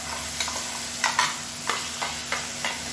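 A thick ground chutney paste hisses and sizzles in hot tempering oil as a spoon scrapes and stirs it in irregular strokes, close and fairly quiet.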